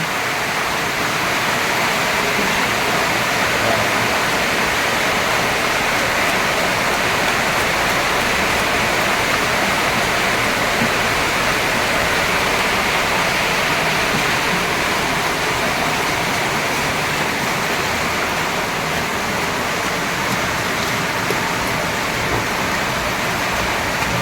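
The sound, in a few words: heavy rain pouring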